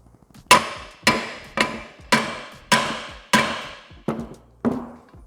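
Metallic hammer blows driving a ball joint's outer ring into its groove, eight sharp strikes at a steady rhythm about half a second apart, each ringing briefly before the next, close and clear with no talk.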